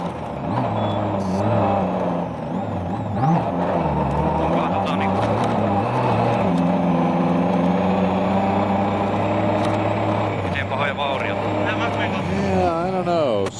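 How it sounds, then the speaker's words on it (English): A damaged WRC rally car on a New Zealand rally stage moves off after a crash, its engine droning steadily and rising in pitch under continuous commentary and crowd noise. "Car's moving, but I'm not sure it's going to go very far."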